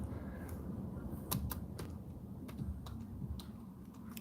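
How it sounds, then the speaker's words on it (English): Slow, irregular single-finger typing on a computer keyboard: sparse, faint key clicks spaced unevenly at close range, with no talk. "We're here typing like an 82 with one finger."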